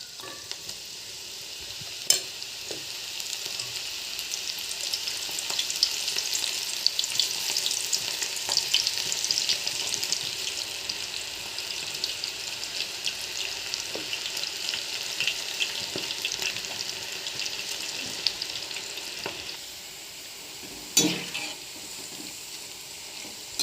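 Onion pakodi deep fry in hot oil in a pan, a long steady bubbling sizzle with occasional sharp clicks and knocks, close and without speech.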